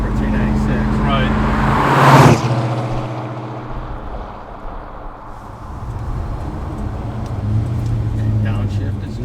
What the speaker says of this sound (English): Downshift is nice.